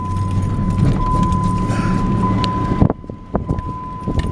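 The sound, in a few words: car driving onto a property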